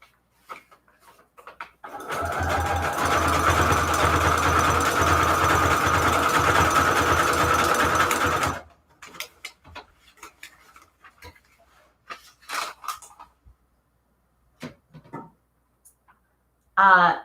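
A sewing machine runs a straight stitch in one continuous, steady whirring burst of several seconds. Quiet pauses and a few brief clicks and rustles come before and after it.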